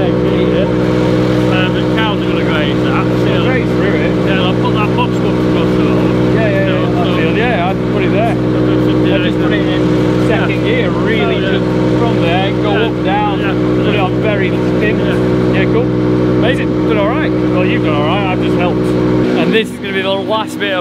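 Slurry spreader with an aerator and dribble bar running, a steady loud tractor engine drone and mechanical rumble throughout, with a voice speaking over it, cutting off just before the end.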